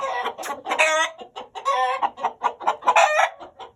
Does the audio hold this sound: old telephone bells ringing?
no